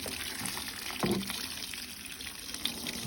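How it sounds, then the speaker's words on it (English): Water is poured into a barbecue to make homemade liquid fertilizer, giving a continuous close splashing and trickling pour with a brief louder splash partway through. "We pour a little bit of water"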